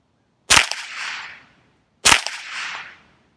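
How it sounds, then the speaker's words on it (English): Two loud blank rounds fired from an AR-15/M4 conversion, each a sharp, close crack with a rumbling echo tail, spaced about one and a half seconds apart, with no talking. "now our loud blanks"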